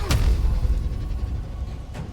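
Magic Missile spell cast in the Baldur's Gate 3 video game: a sharp impact burst up front, then a rumbling low thump and decay, with a second brief crack near the end.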